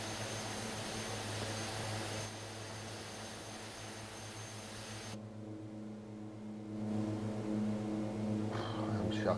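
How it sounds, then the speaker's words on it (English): A loud, steady DHC-6 Twin Otter propeller engine drone in a flight simulator game, with strong tonal hum, continuous throughout, swelling slightly louder near the end. "God, this engine's so loud."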